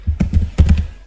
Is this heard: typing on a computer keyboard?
yes